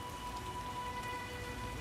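Steady rain in The Witcher (2007) video game, a dense, even patter of drops falling on surfaces that holds at a constant moderate level throughout, with no voices.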